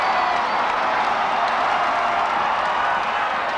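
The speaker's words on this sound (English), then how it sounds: "Listen to the crowd." A large Australian football stadium crowd cheers and applauds a goal in a 1999 Kangaroos versus Adelaide match, a dense and loud roar of clapping and voices that holds steady throughout.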